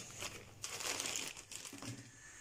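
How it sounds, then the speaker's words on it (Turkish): Plastic shopping bag crinkling and rustling as it is emptied indoors, a steady close run of crisp crackles and scrunches lasting a couple of seconds with no talk. "Poşetimizi boşalttık."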